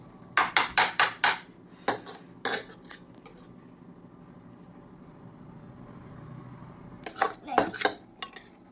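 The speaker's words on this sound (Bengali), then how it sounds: "এই যে ম্যাগি হয়ে গেছে, এবার প্লেটে বের করছে" Metal spoon scraping and clinking against a pan as Maggi noodles are served onto a plate, in sharp bursts of clatter early on, a quiet stretch, then another rapid cluster of clinks near the end.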